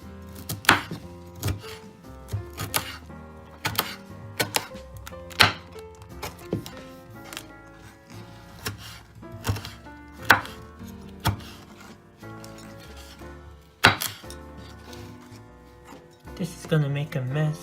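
Knife chopping through dry broccoli on a board while making a broccoli, spinach and tomato frittata, a run of sharp, irregular thunks close by, with a person talking over parts of it.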